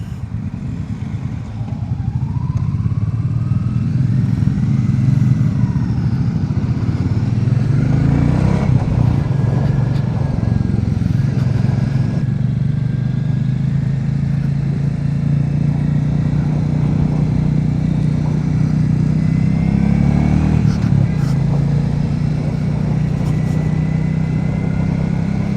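A Royal Enfield Bullet 350 being ridden, its single-cylinder engine thumping steadily and loudly inside the rider's helmet with wind roar, the note rising and settling as it accelerates and cruises.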